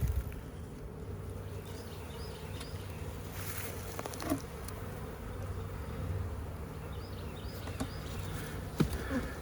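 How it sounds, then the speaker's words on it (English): A caught swarm of honey bees hums steadily inside a hive box, a dense continuous buzz held close and even throughout, with a few soft knocks and pats rising over it. "Yes, sir, we caught us a right nice size swarm."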